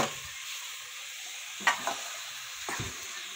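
Tomatoes sizzle in spiced oil in a pan during home cooking, a steady soft frying hiss with two or three sharper scrapes as a spoon stirs them.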